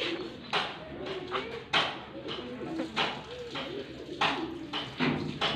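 Striped pigeons coo in soft repeated throaty phrases, close by, amid rustling and brief tapping bursts, with faint background voices.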